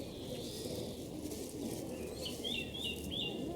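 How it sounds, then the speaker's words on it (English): Birds over woodland as an ambience effect in a countryside bedtime story: soft repeated chirps and cooing calls, faint and distant over a steady low wash of outdoor background noise. "They could see birds flying above the nearby woodland."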